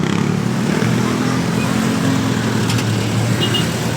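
Dense road traffic in Muntinlupa, with cars and motorcycles passing nearby, forms a loud continuous engine rumble and roadway roar throughout.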